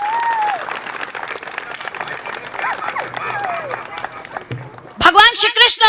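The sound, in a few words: audience applause welcoming Dr. Ruchi Chaturvedi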